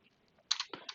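Quick keystrokes on a computer keyboard while configuring a router, a handful of sharp close clicks in an irregular burst after a near-silent start.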